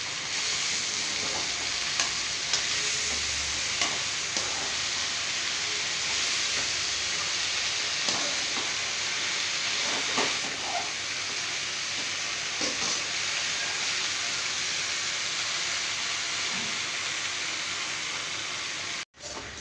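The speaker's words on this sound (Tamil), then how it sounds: "கீரையை கிண்டிக்கணும்" Spinach greens frying in a pan, a continuous loud sizzle and hiss with occasional soft scraping stirs running throughout, close up and without voices.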